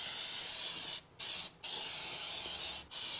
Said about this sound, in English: Let's get to spraying here.